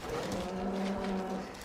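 A cow moos once in a long, steady low call lasting over a second, close and loud on a livestock farm, with no talking over it.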